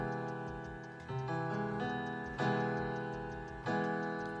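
An augmented major chord sounds on a synth or keyboard, with the voicing changing about four times as new notes are struck. It rings out clearly, alone and with no talk.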